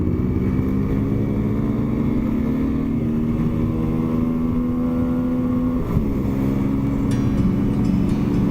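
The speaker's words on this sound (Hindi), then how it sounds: "ये देखो upside down shocks, mono shocks, ये पल्सर 200 है" A modified 2008 Bajaj Pulsar 200 motorcycle engine with upside-down and mono shocks runs steadily and loudly up close, a continuous droning hum with a brief dip near the end and no talk.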